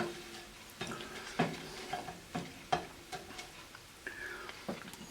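Chili peppers frying in hot oil for a Kung Pao tofu dish, a quiet light sizzle broken by soft clinks and taps of a utensil against the pan at irregular intervals.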